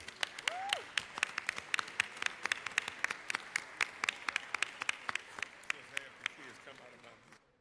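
Applause fills the Georgia House of Representatives chamber: many hands clap in a sharp, dense patter at moderate distance, sustained for several seconds before tapering off.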